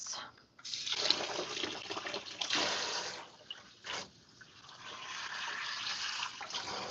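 Tap water runs and splashes as wigs are rinsed under it, a steady close hiss that briefly breaks off and changes as the hair is moved under the stream, with faint voices in the background.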